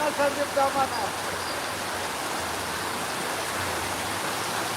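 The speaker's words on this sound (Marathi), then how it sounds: "खूप मोठा पाऊस सुरू आहे बघू शकता" Heavy cloudburst-like rain pours down in a steady, dense hiss of falling water, with brief faint voices near the start.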